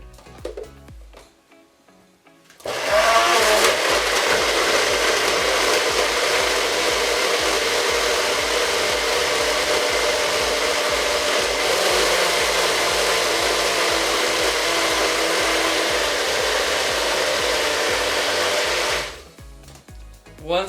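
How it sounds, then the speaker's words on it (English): A blender whirs loudly and steadily for about sixteen seconds as it chops lemongrass and galangal for a satay marinade, switching on abruptly after a quiet start and cutting off near the end. "the blender is going to have a little trouble blending through the lemongrass and the galangal at the same time"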